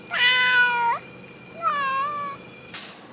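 A cat meows twice up close, a long whiny call followed by a shorter, rising one, with a faint click at the end.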